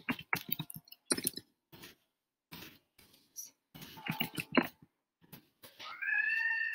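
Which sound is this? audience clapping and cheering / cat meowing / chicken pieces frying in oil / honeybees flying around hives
cat meowing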